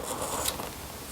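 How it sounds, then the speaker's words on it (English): Pencil turned in a small handheld sharpener while shading a drawing, giving a steady, close, scratchy grinding that runs without pause for just over a second. "need to sharpen my pencil."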